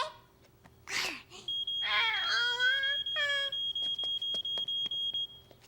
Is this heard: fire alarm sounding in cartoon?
yes